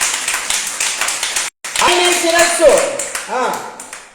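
A congregation at a Telugu church sermon claps hands in a loud, rhythmic burst, then someone speaks over the last scattered claps.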